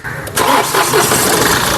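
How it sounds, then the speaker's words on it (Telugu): A 2017 Mahindra TUV300 T8 car engine cranks briefly and catches on a single start, then settles into a steady, close idle with no talking. "సింగిల్ సెల్ఫ్లో కార్ స్టార్ట్ అవుతుంది ఎటువంటి స్టార్టింగ్ ట్రబుల్ అయితే లేదండి"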